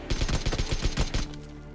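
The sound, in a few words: gunfire in the video game PUBG Mobile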